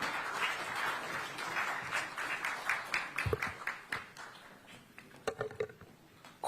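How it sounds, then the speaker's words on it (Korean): An audience at a Korean National Assembly forum breaks into applause, a dense burst of clapping that thins out toward the end into scattered claps. "큰 박수로 맞아주시기 바랍니다."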